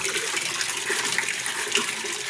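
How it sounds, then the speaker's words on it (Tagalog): Water pouring steadily into a container at a home in the provinces, a continuous rushing splash that stays close and even for the whole stretch. "Punaan ko lang yung tubig."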